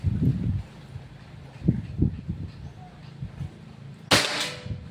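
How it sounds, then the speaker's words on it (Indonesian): A single sharp, snappy shot from a Predator Pajero Gen 6 air rifle cracks out near the end after a few soft muffled thumps and faint background rustle. "Tembakan keempat ini ya."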